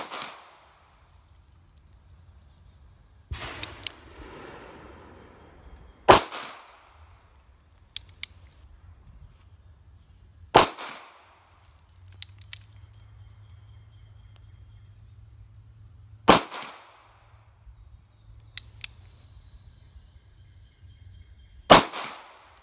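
A North American Arms Pug 22 Mag mini revolver fires five sharp, loud shots spaced several seconds apart, each a crisp crack with brief echo, with quiet handling clicks and background hum in between.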